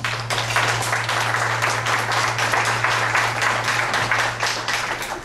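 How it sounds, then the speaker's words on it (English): A church congregation applauds steadily and fairly loud for about five seconds, the dense clapping running evenly throughout, over a low steady hum. "I think you all should give yourselves a round of applause"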